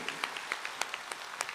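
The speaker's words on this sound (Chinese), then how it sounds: "掌声鼓励。" A small audience at a Miaoli Hakka singers' concert gives brief, sparse applause, scattered individual claps at moderate distance, fairly quiet.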